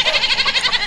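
A goat bleats in a rapid, wavering series of nasal pulses, close and fairly loud, filling the whole short moment with no other sound around it.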